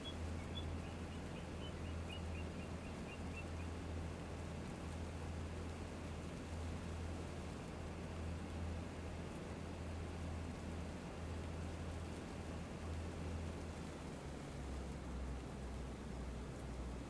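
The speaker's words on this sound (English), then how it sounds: "right as the rain started." Steady rain falls over open fields in a continuous broadband hiss with a low rumble beneath, unchanging in level from start to finish and free of any voices.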